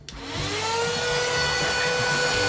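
A small handheld electric mini blower spins up with a short click and then holds a steady, loud whirring whine, high and even from close by.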